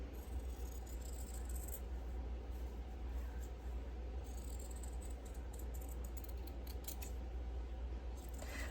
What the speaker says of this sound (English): I'll cut right on this line